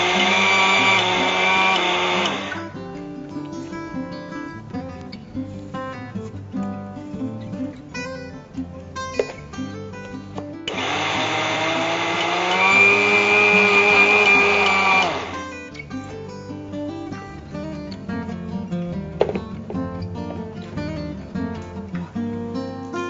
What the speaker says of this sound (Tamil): இந்த அரிசி வந்து கொஞ்சம் குறை குறைன்னு அரைக்கணும், நைஸா அரைச்சிடக்கூடாது